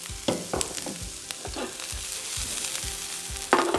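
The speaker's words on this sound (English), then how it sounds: "I'm going to throw in shallots, and we're going to start them sauteing till they get translucent" Shallots sauté in olive oil in a pan with a steady close sizzle, broken by a few sharp scraping and clacking stirs.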